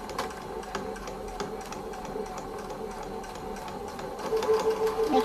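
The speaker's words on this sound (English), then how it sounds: "I can sew the edge" A sewing machine runs steadily, stitching along the edge of a cup-shaped fabric face mask, its rapid needle clatter even and close, growing slightly louder near the end as it keeps stitching alone.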